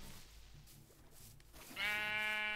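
In Minecraft, a sheep gives one loud, clear bleat near the end after a quieter stretch of muffled game noise.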